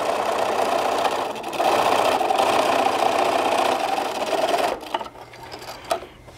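Fabric layers stitched on a sewing machine for a travel tissue holder, a steady close mechanical whir running in bursts, then stopping near the end with a few small clicks and handling noises.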